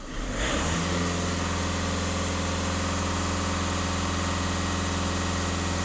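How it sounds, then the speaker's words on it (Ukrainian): A VW Passat B7 1.6 TDI diesel engine held at full throttle, a loud steady drone that rises quickly at the start and then holds constant with no talk. "даю газ в пол, фіксуємо дані"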